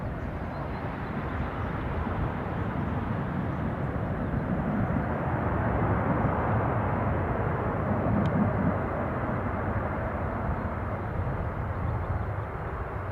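Aircraft engine noise at Newcastle airport, a steady broadband roar holding level and loud throughout, close by, with no talk over it.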